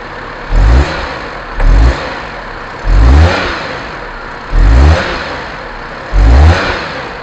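A Perodua Kancil's engine revs in five strong surges at a steady rhythm, each roar rising and falling back to a lower rumble between them; the engine responds sluggishly.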